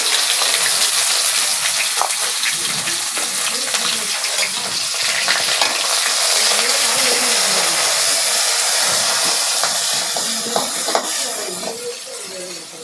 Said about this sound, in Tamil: வெங்காயம் போடுறோம் வதக்கிறதுக்கு